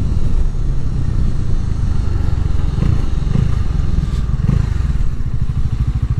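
A Bajaj Dominar 400 motorcycle engine drones steadily at about 155 km/h, loud and close, with occasional clattering bumps from the ride and no voices.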